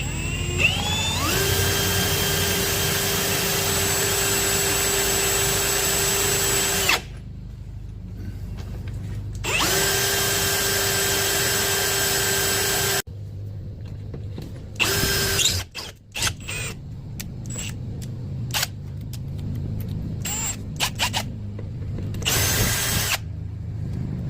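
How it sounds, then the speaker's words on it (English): A power drill bores out a previously tapped screw in several loud, close bursts of steady whining, separated by short pauses and followed by choppy, intermittent spurts of drilling. "when I go to drill this out, because I've tapped it, the screw may actually want to just undo anyway"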